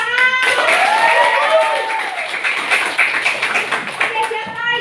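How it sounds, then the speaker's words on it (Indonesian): A classroom of pupils clapping in a dense, lively burst, with children's voices and a teacher's voice rising over the patter throughout. "Oke, tepuk tangan."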